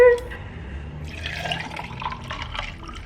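Peach drink is poured over ice in a glass, a steady close trickle and fill sound after a brief clink, continuous for a few seconds without speech.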